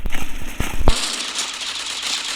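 Pump shotgun in a Turkish-played shooter game: several sharp bangs in quick succession, then a louder final blast followed by a hissing, crackling tail, close and loud.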